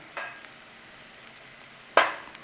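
Garlic and onion frying gently in a pan: a soft, steady sizzling hiss, joined by two brief louder stirring scrapes near the start and near the end.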